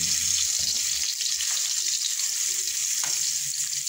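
Ginger frying in a pan, a steady close sizzle with occasional stirring scrapes, no talking.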